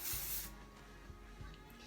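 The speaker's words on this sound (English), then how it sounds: "little bit of my wax spray again." A short hissing burst from a can of hair wax spray fires once at the start during an updo, followed by quiet room tone with faint light handling taps.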